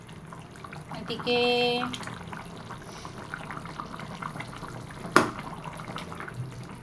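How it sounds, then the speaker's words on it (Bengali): A pot of chicken curry with potatoes simmers under a lid: a soft, steady bubbling low in the mix, with a short electronic beep early on and a sharp click later. A voice speaks briefly. "খুব সুন্দর মতো ফুটতেছে।"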